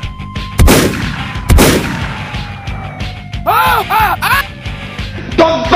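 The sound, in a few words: shotgun firing in the video game Free Fire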